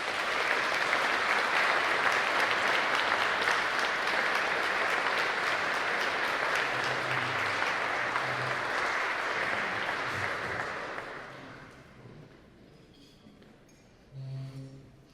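An audience at a law lecture event applauding to welcome Justice Malcolm Rowe, sustained dense clapping for about ten seconds that fades out, followed by a short spoken remark.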